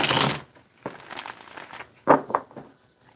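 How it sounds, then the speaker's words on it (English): A deck of cards being shuffled by hand, a crisp riffling burst at the start followed by softer shuffling and a couple of short sharp riffles later, close and fairly quiet with no talk. "I'm going to do 4 shuffles."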